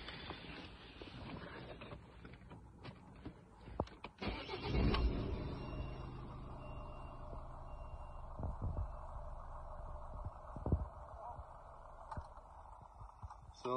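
A Ford Focus 1.6 TDCi diesel, freshly remapped, cranks and fires up with a loud burst, then settles into a steady idle with a few clicks and knocks, heard close by.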